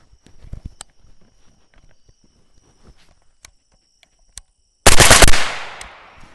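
An ADR Mawl clone toy blaster, preceded by a few scattered light clicks and taps, then a loud, close, rapid burst of firing lasting about half a second that trails off into a brief hiss.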